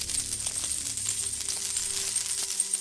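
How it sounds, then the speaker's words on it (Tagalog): Gold coins fall and clink in a bright, scattered shower of metallic taps and chimes, close by, continuing for a few seconds. "nagbagsakan ang mga gintong barya"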